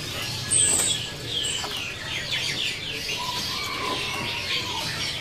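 Caged songbirds, an oriental magpie-robin and a green leafbird, chirp and trill in bright overlapping phrases at moderate distance, with faint background noise and no clear talk.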